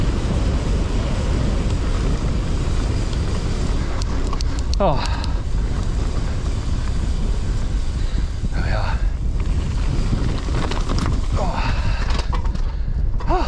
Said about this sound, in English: this wind, brutal